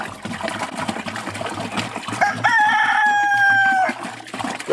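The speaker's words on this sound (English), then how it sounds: "I got the Icelandic chickens just hanging out." Icelandic chickens clucking in a farmyard, with one rooster letting out a clear, drawn-out crow midway, over a background of trickling water and soft scattered clucks.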